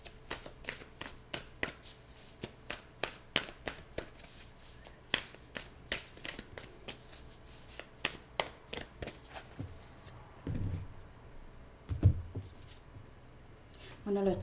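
Tarot cards are shuffled close by in a long run of quick, crisp riffling clicks and snaps, then slow into a few softer handling sounds.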